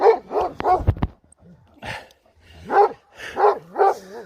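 A Kangal dog barks in quick bursts up close, then lets out whining, whimpering yelps between barks, loud and alone without talk.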